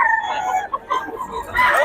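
A Gilmore Sweater gamefowl rooster, wing-banded, crows close by in a short, bright call that rises and breaks off, with a second burst near the end over low background murmur.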